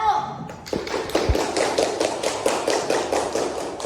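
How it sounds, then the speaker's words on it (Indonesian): Students in a classroom clap in a quick, even rhythm for group 1 after a history presentation, the claps close and repetitive, with voices mixed in. "Coba tepuk tangan untuk kelompok 1."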